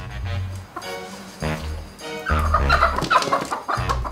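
Chickens cluck in repeated bursts close by in a barn where a mobile slaughter unit pulls up to the coop, the calls rising and overlapping in the middle before settling.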